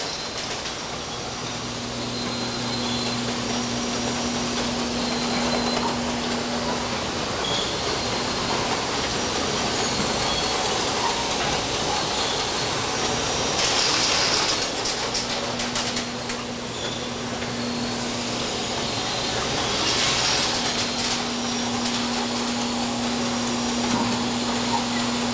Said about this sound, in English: The bottles then go through a 6-spindle quill capper.